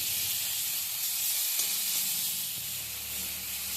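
Spice mix with turmeric sautéed in a pan as filling for green pea kachori, giving a soft, even hissing sizzle throughout with a brief stir partway, close and steady, no voices.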